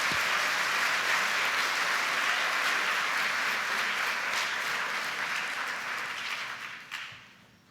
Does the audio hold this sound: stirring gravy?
no